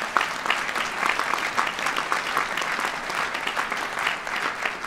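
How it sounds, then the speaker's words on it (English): Sustained applause from a large audience at a yeshiva school dinner, a dense, steady wash of many hands clapping close and loud with no break for the full length. "Let's please give a round of applause."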